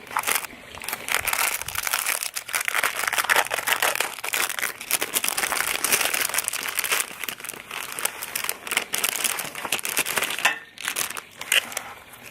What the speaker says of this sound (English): So open this bag up, we got a bunch of smaller bags.